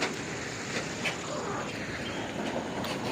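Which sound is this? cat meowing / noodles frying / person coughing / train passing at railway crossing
train passing at railway crossing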